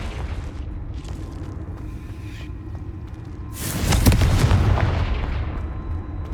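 A Confringo fire spell explodes in Hogwarts Legacy: a faint rumbling buildup, then a sudden loud blast that roars and slowly fades over several seconds.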